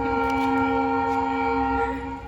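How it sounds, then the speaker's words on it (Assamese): A train passes close by, sounding a long steady horn chord that holds for about two seconds over a rumbling rail background before fading slightly at the end. "এইফালে গাইছ ট্ৰেইন চাওক আমাৰ ট্ৰেইন"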